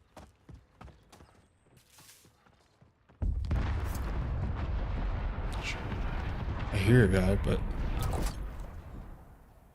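A distant explosion in the video game Warzone, a sudden heavy boom that rolls into a sustained loud rumble lasting several seconds, with someone talking over it.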